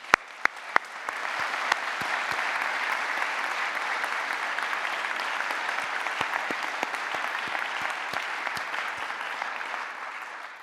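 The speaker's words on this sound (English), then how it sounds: "I'd like to applaud you for that" At a University of Liverpool graduation ceremony, the audience applauds the graduating students. It opens with a few sharp separate claps, then swells into sustained, even clapping from a large hall crowd that lasts about ten seconds.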